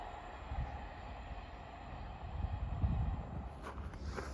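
A ScotRail passenger train running from Aberdeen to Edinburgh Waverley passes at North Queensferry, a fairly faint, steady rumble of wheels on rails that swells slightly midway, with a few brief higher clanks near the end.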